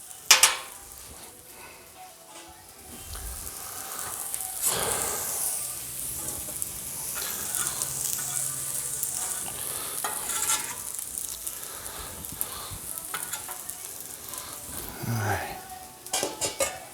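Shrimp fried rice sizzles steadily on a Blackstone flat-top griddle while a metal spatula scrapes and stirs, with clattering tool strikes now and then over the constant frying hiss.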